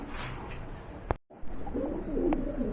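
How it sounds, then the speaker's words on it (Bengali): Pigeons at a bird market give soft, low throaty coos close by, with a brief sharp click and a moment of silence midway before the cooing resumes. No one speaks. "চলেন আমরা কবুতরগুলো দেখি"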